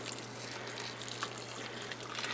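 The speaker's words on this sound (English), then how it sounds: "we're just going to pour boiling water over this" A steady stream of boiling water pours over cream cheese in a dish, a continuous splashing trickle with a faint low hum underneath.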